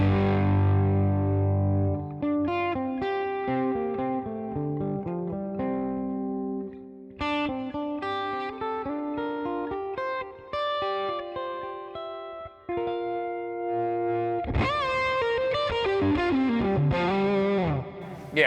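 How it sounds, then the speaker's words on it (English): Overdriven electric guitar through a hot-rodded tweed amp tone on a Fractal modeler, warm and gritty, plays chords and melodic phrases, with some effects shimmer, solo and fairly close. "Kind of hot-rodded tweed tones."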